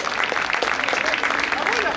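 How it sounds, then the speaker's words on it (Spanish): Applause ripples through the crowd at a padel exhibition match in Neuquén, a steady two-second patter of clapping hands filling the space with no pause. "Fuerte el aplauso."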